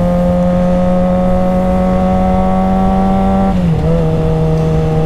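A motorcycle engine drones steadily and loudly on the road, then its pitch dips sharply as the rider downshifts and uses engine braking, with the tone settling lower afterwards.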